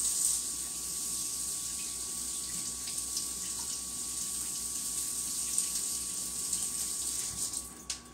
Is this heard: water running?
yes